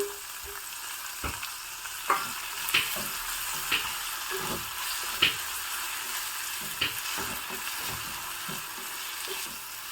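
Chopped tomato and capsicum fry in ghee with a steady, moderate sizzle, broken by scattered scrapes and taps of a spoon stirring the pan, with no one talking.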